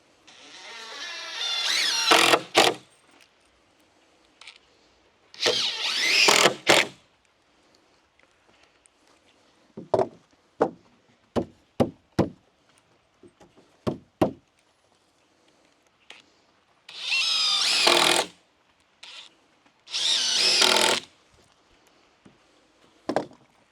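Power drill driving 2.5-inch screws at an angle into the wood of a barrel sauna, four long whirring bursts of a second or two each, with scattered knocks and taps between them.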